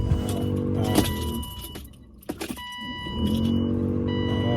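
A BMW E36 M3 sedan's engine cranks and fires, preceded by keys jangling. The starter whirs briefly, then the engine catches and settles into a steady, close idle.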